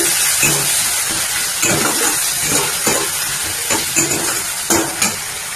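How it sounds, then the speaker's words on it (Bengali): Mashed potato frying in hot oil in a wok, with a steady close sizzle broken by repeated scraping stirs of a ladle against the pan. "দিয়ে এবার একটু ভাজা ভাজা করে নিচ্ছি।"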